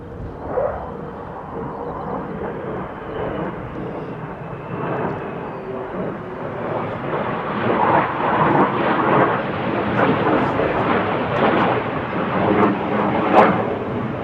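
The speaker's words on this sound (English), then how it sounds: "I can definitely hear a helicopter. There's two over the top of us." Helicopters flying overhead at RAF Lakenheath air base, a loud, sustained broadband roar that builds steadily over several seconds with a thumping rotor texture, no talk.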